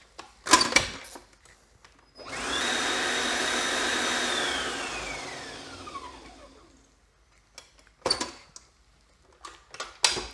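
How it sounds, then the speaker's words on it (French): A stand mixer whisks Swiss meringue, spinning up to a steady high whirr for several seconds and then winding down, with clinks and knocks from the bowl and whisk before and after. "on va continuer à faire monter la meringue au robot pendant quelques minutes"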